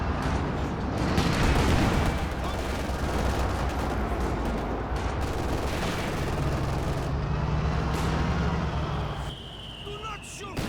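Mortar barrages and rifle fire in Company of Heroes 2 on a battlefield with a KV-1 heavy tank, continuous rumbling explosions and crackling gunfire, loud and dense, with a commentator talking over the battle.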